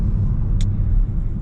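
Subaru BRZ running on E85 fuel, with unequal length headers, catless overpipe and dual resonated front pipe, rumbles steadily from inside the cabin while driving, with one brief sharp pop or crackle partway through.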